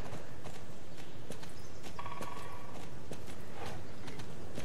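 A horse trotting in the Star Stable video game: steady two-beat clip-clop hoofbeats, close and clear, running through the whole stretch over a bed of game ambience.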